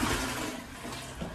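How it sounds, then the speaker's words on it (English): Household toilet flushing nearby, a steady rushing wash of water at moderate level throughout, with no speech. "just flush my wee."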